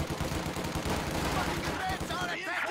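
Machine gun fire in a World War II strategy video game, rapid bursts of automatic shots rattling continuously under the game's ambient battle noise, fairly close and steady for a couple of seconds.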